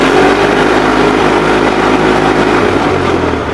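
Gravely 817 walk-behind mower engine running at idle with a new muffler and the PTO engaged under load, a steady close, loud droning rumble that holds even throughout.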